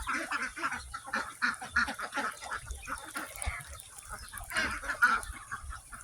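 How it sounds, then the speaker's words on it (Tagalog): Ducks at afternoon feeding, with chickens nearby, keep up a busy, overlapping chorus of quacks, close and continuous throughout without pause. "Kasama yung mga pato."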